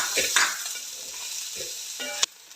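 Chopped onion goes into a hot frying pan while cooking noodles, sizzling close up with several scraping stir strokes and a sharp clink near the end.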